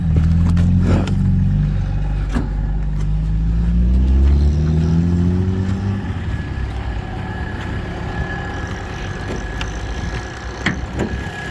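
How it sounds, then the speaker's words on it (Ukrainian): A van engine turns over and catches close by, then settles into a low, rumbling idle with occasional clicks and knocks. "М'яко завівся двигун."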